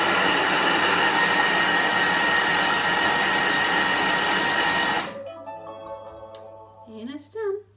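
Kitchen food processor blending cauliflower for a pizza base: a loud, steady motor whir that stops abruptly, followed by a voice talking.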